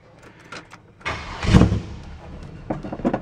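A 1958 Chevrolet Impala with a big-block engine cranks briefly and catches, rising to a loud close roar before settling into a rough idle.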